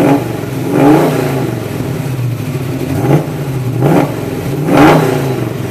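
A 1968 Mercury Cougar with a MagnaFlow exhaust revs up close in three or four loud swells, each rising and falling back to a steady idle rumble.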